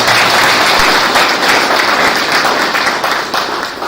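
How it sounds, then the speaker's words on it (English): Loud, dense applause from a seminar audience at a college of theology in Delhi, steady and close throughout with no talking over it. "we shall give him a great applause once again."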